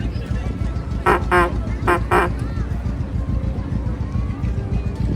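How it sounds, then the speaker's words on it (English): Four short fire truck horn toots in two quick pairs at Disneyland over a steady engine rumble and background chatter. "For him to honk that horn and get people out of the way"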